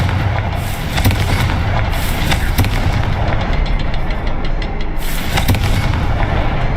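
Fiery Confringo spell blasts from Hogwarts Legacy, a loud crackling burst of explosions with several sharp cracks over a dense, roaring rumble throughout, with no voices.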